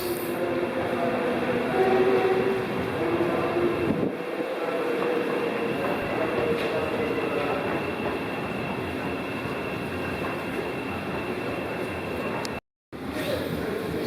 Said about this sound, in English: oh, got a Thameslink train in the distance there, and that's heading for St Pancras.